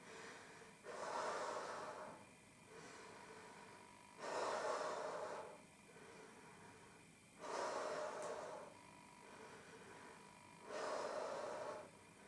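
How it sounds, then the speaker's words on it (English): Heavy rhythmic breathing during a postnatal recovery workout, four long breathy exhalation bursts evenly spaced about three seconds apart, close and steady. "Breathe out and in."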